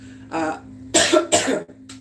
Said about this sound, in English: Let me take a